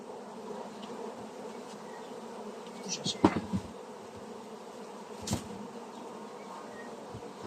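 Honey bees buzzing steadily during the merging of two colonies, a close, continuous hum with a few louder passes and knocks near the hive.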